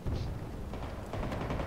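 Recoilless launcher fire in the Battlefield 2042 shooter, a dense rumbling blast with crackling tail amid ongoing battle noise, loud and sustained through the short moment.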